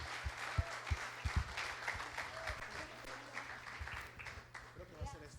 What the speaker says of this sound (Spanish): vamos a darle un fuerte aplauso por la familia Romero